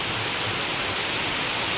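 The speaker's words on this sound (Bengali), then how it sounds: "দেখো কি জোরে বৃষ্টি হচ্ছে" Heavy rain pours onto a street in a steady, dense hiss, close and unbroken, with no voices over it.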